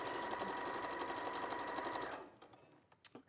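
A sewing machine stitches a long strip of fabric for a dress in a steady, fast mechanical whir for about two seconds, then stops, followed by a few faint handling clicks.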